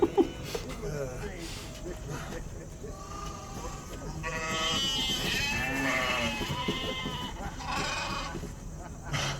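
Sheep bleat in a rural pastoral scene from a drama, with several wavering cries clustered mid-way and people talking around them.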